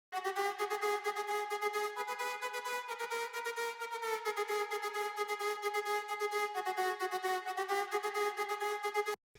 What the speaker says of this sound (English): I just threw on Ableton stock vocoder to change up the texture a little bit